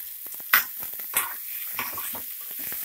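Tomatoes softening in a pan, a faint low sizzle broken by a few soft scrapes and clinks of a spoon stirring against the metal, quiet and close with no talking.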